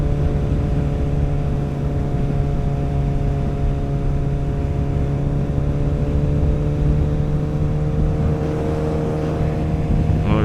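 A Suzuki Hayabusa motorcycle cruises on a humid road, its engine holding a steady loud drone with a sustained tonal hum and wind noise throughout, no talking.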